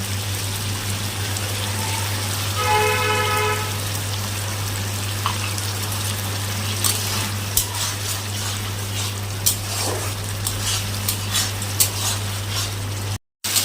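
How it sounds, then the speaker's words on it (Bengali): Spice paste frying and being stirred in a pan with a little water added, a steady sizzling bed with brief scraping strokes and clinks, no talking, over a constant low hum. "একটু জল দিয়ে আর একবার একটু কষিয়ে নেব"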